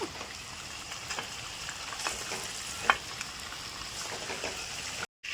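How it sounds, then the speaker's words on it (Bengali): Chicken pieces frying in hot oil for a chicken curry made in the style of mutton, with a steady close crackle and sizzle throughout and a few louder pops. It cuts out briefly near the end. "দেখো আমি সব মাংসগুলো ভেজে নিয়েছি"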